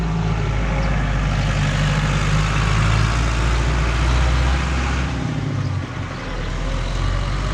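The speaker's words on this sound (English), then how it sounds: "An old case tractor." An old Case tractor's heavy diesel engine rumbles steadily nearby, low and constant, with a slight dip near the end and no talking.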